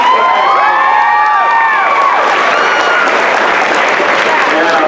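Graduation crowd applauding and cheering loudly for a middle school team, with high excited shouts and whoops over dense, continuous clapping.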